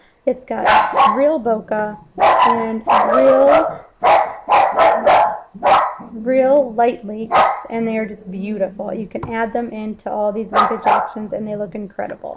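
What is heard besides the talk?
dog barking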